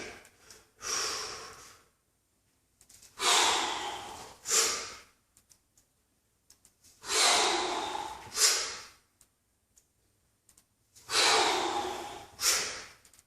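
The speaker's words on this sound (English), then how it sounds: "now you can hear the breathing" Heavy, forceful breathing during a kettlebell snatch, in repeated pairs of sharp exhales and inhales, close up, with silent pauses between each cycle.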